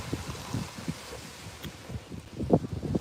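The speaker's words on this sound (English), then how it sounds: "It's getting a little bit windy again here." Gusting wind at a beach in Playa del Carmen, Mexico at sunrise, rumbling buffets against the microphone in uneven bursts, close and moderately loud with no talking.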